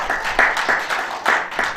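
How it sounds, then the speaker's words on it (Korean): Guests clap at a signing ceremony for a business agreement between a pizza chain and a garlic farming cooperative, a few distinct rounds of hand claps close by in a short burst. "나머지 박수 한번 깊게 잡으시고요"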